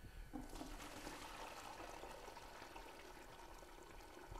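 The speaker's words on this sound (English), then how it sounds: "pour off the excess solution so that it's not sitting in a pool of water" Excess nutrient solution pouring off conditioned rockwool, trickling steadily at close range, a continuous splashing stream with no voices.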